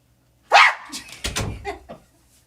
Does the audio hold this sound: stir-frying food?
no